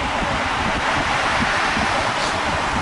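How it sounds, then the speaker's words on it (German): Sea waves and surf roll onto a windy winter beach near the Los Escullos campsite in Spain, a steady, loud broadband roar with wind buffeting the microphone throughout and no voices. "Hat sich gelohnt, wie laut so ein Meer sein kann"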